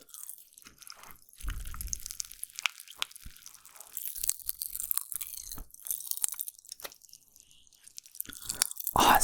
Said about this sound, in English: And the crunching of them is also very loud.